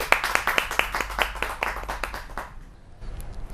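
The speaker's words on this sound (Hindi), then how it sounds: "जोरदार तालियों के साथ स्वागत किया जाए" An audience claps to welcome a poet at a poetry gathering, a run of sharp, fairly distinct claps for about two and a half seconds that then fades into quiet room noise.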